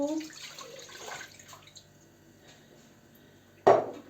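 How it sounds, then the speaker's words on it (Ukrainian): Half a litre of water pours into a pot for a green tomato salad marinade, a soft watery splash over the first second or so, then a quiet stretch ending in one sharp clank of cookware. "Пів літру води вливаємо тут."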